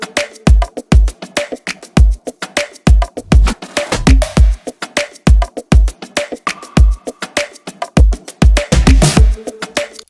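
Punchy produced percussion from an electronic music track, with sharp kick-like hits and snappy transients in a steady, busy rhythm, loud and up front with no voice over it.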